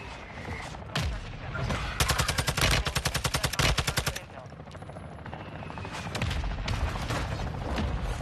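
Rapid bursts of video game sniper and automatic gunfire crackle loudly in a dense volley, then thin to scattered shots over a steady battle din, with a helicopter droning in the background.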